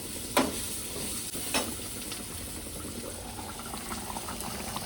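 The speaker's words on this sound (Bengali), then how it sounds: "এই যে খাসি পোস্ত দিয়ে কুচি ভাজা।" Mutton with poppy seeds fries in a pan with a quiet, constant sizzle. A couple of sharp clicks come early, and no one speaks.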